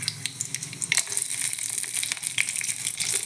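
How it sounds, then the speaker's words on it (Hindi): Cashews frying in a spoonful of ghee in a hot kadai give a steady, close crackling sizzle with bright spitting pops running throughout. "देखो एबे मोर काजू भाजी जाइए"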